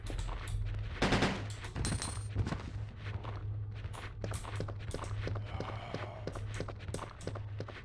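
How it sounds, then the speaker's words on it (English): Rapid in-game gunfire from Resident Evil 2 (1998) on PC: a dense, fast run of sharp shots mixed with footsteps and clattering effects, loud and close throughout, with no voices. "Does quick shooting even work? Getting no headshots here at all."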